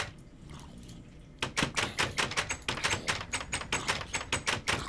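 After a quiet start, rapid clicking keystrokes on a computer keyboard during a PC Minecraft session patter up close in a fast, uneven rhythm, with no voices.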